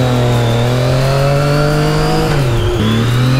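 Triumph Daytona motorcycle on a racetrack, engine note climbing steadily at high revs, then a quick dip at a gear change before pulling hard again, loud and close throughout.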